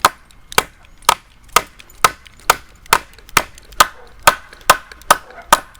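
Sharp metallic-wooden strikes from the hammer side of a cheap survival tool land about every half second, a dozen evenly spaced blows ringing out close by with no talking.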